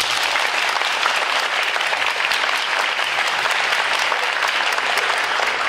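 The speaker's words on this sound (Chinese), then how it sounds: "我们要以热烈的掌声来欢迎" An audience at a 2017 Taipei Literary Festival panel on adapting novels for screen gives warm, sustained applause, dense steady clapping throughout with no voices.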